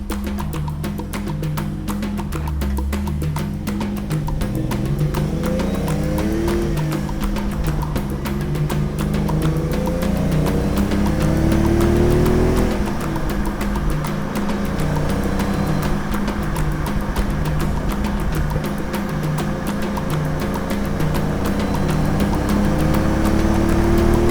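A Fiat Dino Spider's engine revs steadily as the clutch bites and the car pulls away, the rising and falling engine note sustained and close throughout, with no voices over it.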